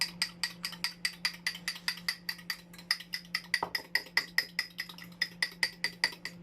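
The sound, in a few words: whisking pancake batter with a fork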